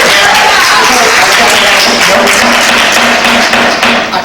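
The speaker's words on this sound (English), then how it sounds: "I gotta keep the clapping down." Audience applause at a county board of supervisors meeting: a dense, sustained burst of many hands clapping in a large room, loud and close, fading slightly at the end.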